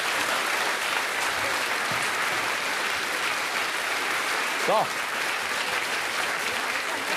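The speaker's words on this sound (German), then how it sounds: "Und schon einen Applaus für unsere Jury heute Abend." A studio audience gives steady, dense applause for the jury at the finale of a Swiss TV country-women's cooking competition, the clapping continuing evenly throughout, with one brief spoken word near the end.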